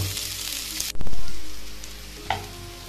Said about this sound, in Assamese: ফ্ৰাই একদম বঢ়িয়া